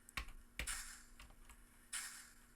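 Sharp, separate clicks of computer keyboard keys pressed during a game, a handful of quick taps spaced irregularly at close range, each distinct against a quiet, low hum.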